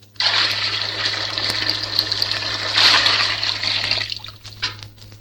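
Water pours steadily into a witch's cauldron, a broad continuous gushing splash over a low steady hum, close and fairly loud for about four seconds before tapering off.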